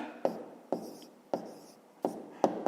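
A pen writes numbers by hand on paper in short, close scratchy strokes, five quick bursts each fading out before the next, with no talk over them.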